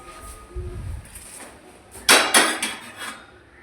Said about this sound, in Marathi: तर मित्रांनो आपण चहाचं भांड घेऊ इथून.